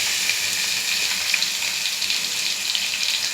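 Crushed garlic dropped into sesame oil over a low flame sizzles steadily with a bright, even crackle and a few small pops, close by and alone.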